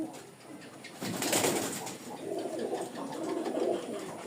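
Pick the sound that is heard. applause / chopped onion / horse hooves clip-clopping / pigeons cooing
pigeons cooing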